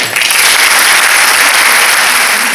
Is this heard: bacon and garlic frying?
no